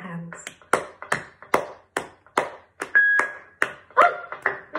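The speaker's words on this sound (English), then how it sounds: "Let's clap our hands." A children's song session opens with sharp, evenly spaced handclaps in a steady beat, about a dozen crisp claps, close and fairly loud, with a light tone ringing briefly in the middle.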